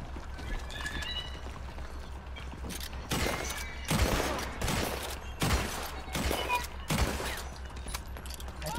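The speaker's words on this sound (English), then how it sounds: "My guns sound dirty." Gunshots ring out in Red Dead Redemption 2, a string of sharp, loud reports spaced roughly half a second to a second apart over steady hoofbeats and ambient noise, echoing briefly after each crack.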